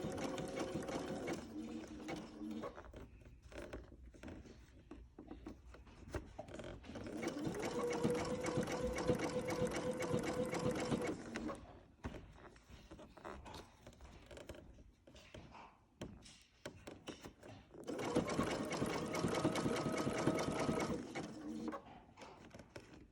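A sewing machine stitching a fabric mask runs in several bursts of rapid mechanical whirring, with short pauses and quieter handling between runs, close and moderately loud.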